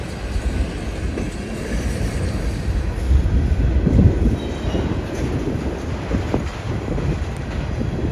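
A local freight train running between Madisonville and Hopkinsville rolls past close by, a steady, loud rumble of rail cars with faint clatter that holds for the whole stretch, with no voices.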